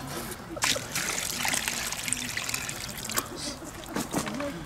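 Water is poured into a Dutch oven holding a hearty pea stew, trickling and splashing nearby in uneven bursts while voices talk over it.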